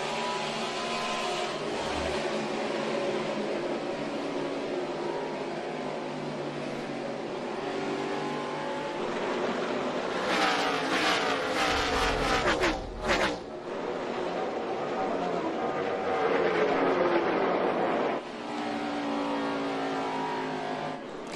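NASCAR stock car engine at New Hampshire, onboard behind Carl Edwards: a sustained loud drone rising and falling through corners and straights, with a brief thump and dip midway.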